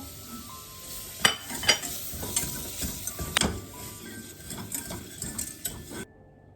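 Tomato paste with butter sautés in a pot, a soft sizzle beneath occasional clinks and scrapes of a utensil stirring against the metal, quiet and close, ending in sudden silence.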